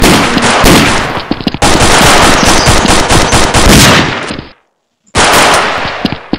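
Loud, close bursts of rapid machine gun fire from a GTA-style video game, with a long volley, a brief gap, another sustained burst, a short silence, then more firing to the end.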